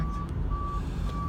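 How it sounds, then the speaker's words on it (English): A tow truck at a roadside wreck scene emits evenly spaced, steady reversing beeps over a low traffic rumble, three tones in quick succession, heard from a moving vehicle nearby. "There's a tow truck and might be a suspect."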